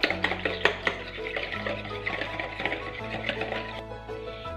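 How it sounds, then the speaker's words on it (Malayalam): Egg and milk are mixed in a bowl with quick, rhythmic clinking and whisking strokes, close and fairly loud, over a low steady hum. "ആദ്യം നമുക്ക് ഈ മുട്ടയും പാലും നന്നായിട്ട് മിക്സ് ചെയ്ത്"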